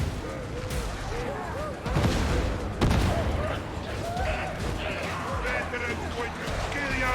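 A grenade blast and bursts of gunfire erupt in a video game, with sharp booms near the two- and three-second marks over a continuous crackle of shots while excited players shout over the din.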